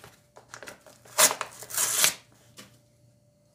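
Tightly packed cardboard packaging being cut by hand, giving crisp crunching and tearing bursts in a few loud strokes with quieter scraping between, close up, no talk.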